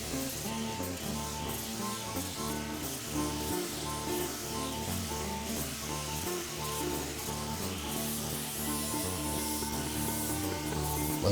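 A sanding flap disc on a grinder runs steadily over a chainsaw-carved wooden eagle, producing a constant abrasive hiss and whirr with a layered motor hum, moderately loud and close, with no talking.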